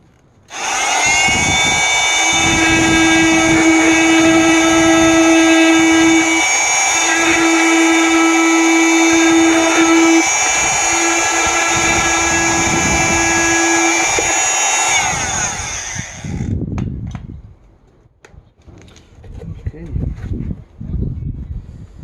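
A high-pitched power tool whines continuously while trimming plastic on a Mitsubishi Evo X headlight housing, with a steady tone broken into short bursts, close and loud, then stopping, followed by scraping handling noises.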